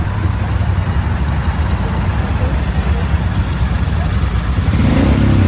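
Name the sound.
Royal Enfield Super Meteor 650 motorcycle engine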